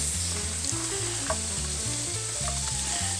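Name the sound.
peppers, onions and garlic sizzling in saute pan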